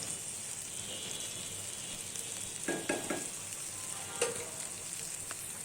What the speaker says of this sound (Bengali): পেঁয়াজটাকে একটু সামান্য নরম করে নিব।